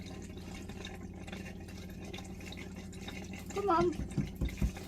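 A caravan water tap running while air is purged from the system, a faint steady trickle that ends in a few sputtering gurgles and spurts, with a voice speaking briefly.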